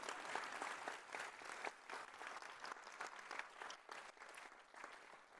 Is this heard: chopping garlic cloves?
no